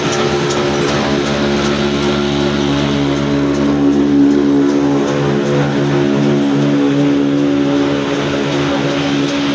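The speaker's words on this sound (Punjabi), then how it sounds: "ਚੱਕੀ ਵੀ ਚੱਲ ਰਹੀ ਤੇ ਉਹ ਨਲਕਾ ਵੀ ਚੱਲ ਰਿਹਾ ਜੀ" An old black diesel engine running a flour mill and water pump chugs steadily and loudly without pause, a continuous low mechanical drone with even harmonic hum throughout.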